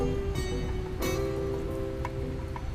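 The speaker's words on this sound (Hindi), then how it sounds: "तुम यहाँ बारिश में क्यों भीग रही हो?" Steady rain falls around a person getting soaked while waiting outside, a dense constant hiss with a faint hum and a few louder drops or knocks; no talking.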